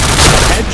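Grenade blast in the shooter game Point Blank, a loud, dense burst of explosive noise that fills the short moment and fades quickly at the end.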